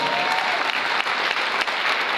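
A burst of applause from a church congregation, many hands clapping steadily and fairly loud throughout, with no speech on top.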